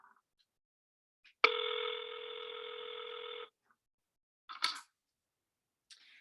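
A telephone emits a sharp click, then a steady electronic tone lasting about two seconds, followed later by brief dial-press clicks and beeps, near and clean against silence.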